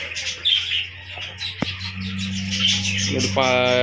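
Madras pigeons chirp and coo close by, with a clear sharp call near the end, while a voice talks underneath.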